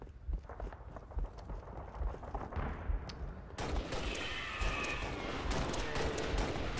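Rapid gunfire bursts from the video game Halo Reach, with sharp overlapping shots and a busier, louder stretch of fire in the second half over a steady game-world background.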